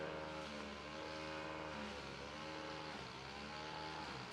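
A continuous drone of an airplane passing overhead fills the whole stretch, steady and fairly loud, with slowly shifting tonal bands like propeller or engine hum outdoors in the Sawtooth mountains.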